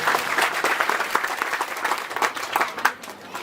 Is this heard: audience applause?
yes